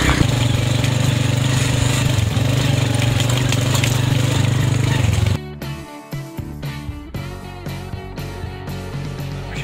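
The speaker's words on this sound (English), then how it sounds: "Yes, I'm riding a bike right now" Motorbike engine running while riding near Astor, a loud steady droning hum that drops off partway to a rougher, quieter idle with bumps and rattles.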